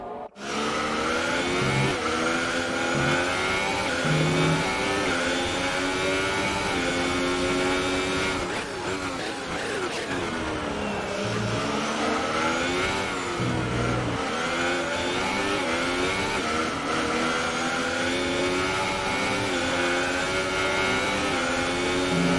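Formula 1 cars race in the F1 2018 video game, with continuous high-pitched engine whine rising and falling through gear shifts as several cars run close together on track.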